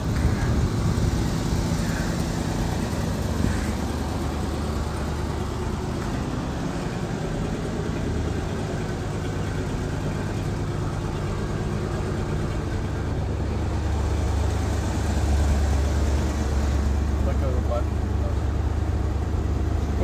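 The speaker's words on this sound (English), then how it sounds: "So as you can see, the car started right up." A 1966 Ford Thunderbird convertible's 428 cubic-inch V8 runs at a steady idle, a continuous low rumble that stays loud and close throughout.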